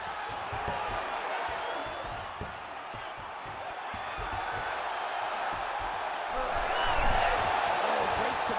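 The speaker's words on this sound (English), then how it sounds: "So the crowd absolutely loving it as these fighters work their way back to the feet." Arena crowd cheering during an MMA bout in EA Sports UFC 5, a dense continuous roar that swells louder toward the end, with a commentator's voice talking over it.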